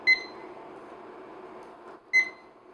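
A kitchen timer beeps twice, a short sharp electronic tone at the start and another about two seconds later, heard over a steady low hum at a stovetop where vanilla pudding is cooking.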